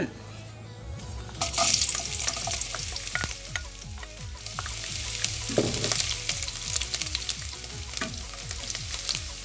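Chopped garlic stir-frying in a shallow layer of oil for a chicken-giblet and ginger stir-fry, a steady close sizzle with repeated scraping strokes of a spatula on the pan, some watery clinks, and no talking.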